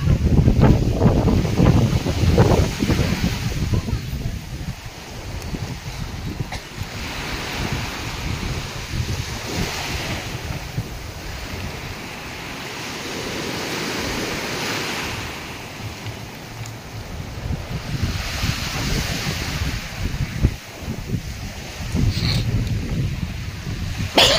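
Big waves surge and break at sea under strong, gusting wind that buffets the microphone, rising and falling in loud swells with a boat nearby.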